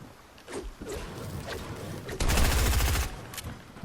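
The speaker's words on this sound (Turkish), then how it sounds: "Apo sıkıyor Apo." Gunfire in Fortnite comes as a few scattered single shots and then a loud, rapid automatic burst of about a second, close and dominant.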